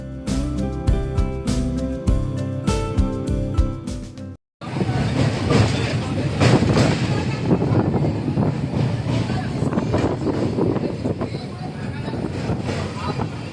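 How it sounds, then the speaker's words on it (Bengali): A passenger train runs at roughly 97 to 100 km/h, a loud continuous roar and rumble with faint clatter that follows a few seconds of music and a brief cutout. "সাতানব্বই থেকে একশো কিলোমিটার পার আওয়ার দুর্দান্ত গতিতে ট্রেন চলছে"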